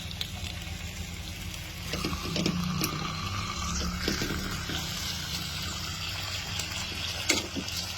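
Marinated, pounded pork chop for bistek sizzling steadily in a hot pan, a continuous close crackle and hiss with a few soft clinks from handling, no talking.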